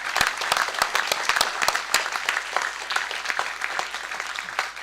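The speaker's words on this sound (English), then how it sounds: "Another round of applause for him." Audience at a cycle tour media launch applauding, a dense burst of many hands clapping steadily and close for several seconds, with no voices over it.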